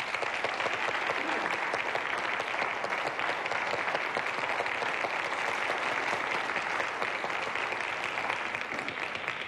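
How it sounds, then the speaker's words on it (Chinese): Sustained applause from a large crowd, a dense, even wash of many hands clapping throughout, with no pauses. "咱是毋是应该给一个上温暖的掌声"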